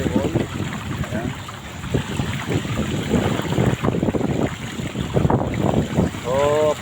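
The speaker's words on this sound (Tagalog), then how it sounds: "Malakas po ang hangin, guys." Strong wind buffets the microphone outdoors beside a flooded boulevard near a barangay hall, a loud, continuous rushing blast with gusty surges, while someone talks briefly under it.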